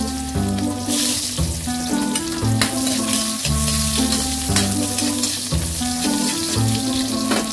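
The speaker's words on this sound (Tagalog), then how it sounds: "Lagay natin yung ating sibuyas." Chopped garlic and onion hiss loudly in hot oil in a pan for chicken liver adobo, a dense steady sizzle broken by repeated scraping and clattering stirs, with no voices.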